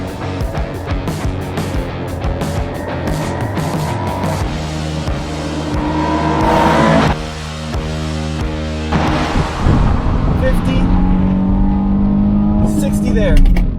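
A Honda Pilot and an Acura MDX launch side by side in a drag race, their engines surging and revving loudly through the gears as they pass, with people talking over the roar.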